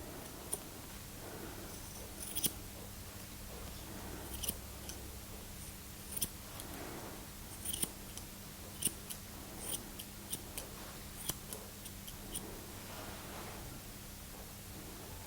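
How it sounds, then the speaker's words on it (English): Quiet, crisp scissor snips come one at a time at an irregular pace over a faint background hiss, trimming a dog's fringe near the eye. "we're going to put our scissors on a 45-degree angle and cut towards a corner of his eye"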